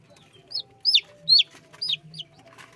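Newly hatched chicks, freshly out of the egg, give a series of five high, thin peeps with short pauses between them, close and fairly clear above a low, quiet background hum.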